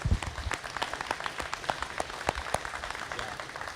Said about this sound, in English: let's give a round of applause to Officer Ethan Meehan